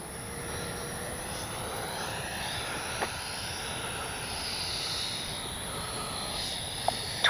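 An Arrows 64mm MiG-29 radio-controlled ducted-fan jet flies in a speed trial on a clear day, its steady whining hum heard at a distance with faint clicks near the end.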